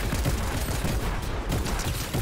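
Dense, continuous gunfire with grenade-like blasts from the video game Fortnite, loud and unbroken for the whole stretch with no pauses.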